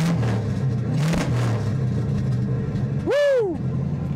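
A Rolls-Royce Silver Shadow engine cranks and catches, then revs up in one rising and falling swell near the end, with a steady engine rumble running underneath throughout.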